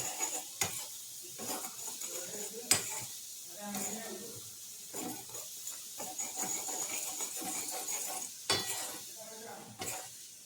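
Natural hair dye thickens in a pan while a spoon stirs it, making repeated scraping strokes and soft knocks over a faint sizzling hiss, with a voice speaking intermittently underneath.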